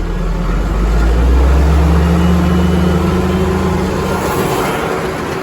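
A loud engine rumbling close by, rising in pitch and falling back as it is revved, steady low droning throughout with no talking.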